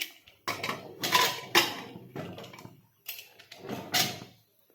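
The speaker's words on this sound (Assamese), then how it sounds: "এতিয়া মই ইয়াৰ ঢাকনিখন লগাই দিছোঁ।" Metal clatter of a pressure cooker lid being fitted and closed over mutton curry, several sharp close clanks and scrapes in uneven bursts with short pauses between them.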